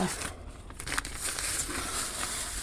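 A paper seed packet full of seeds is torn open by hand, giving soft crinkling and crackling rustles, close and fairly quiet, with no one speaking.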